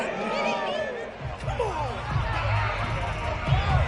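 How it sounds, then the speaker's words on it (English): A home crowd at a football game reacting to a referee's call, a broad roar of cheering and chatter under a commentator's voice, with a few slams and louder swells. "This home crowd, they're happy with that call."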